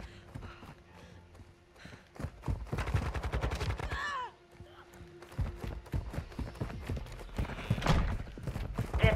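Rapid gunfire in Call of Duty Modern Warfare 2 ranked multiplayer, with quick clattering shot bursts and footsteps that rise and fall under occasional game voice lines.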